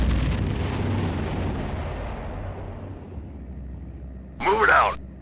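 A destroyed enemy Haverdyne unit blows up in the Ground Control strategy game, a loud rumbling burst that decays slowly over several seconds, followed near the end by a short synthetic voice line.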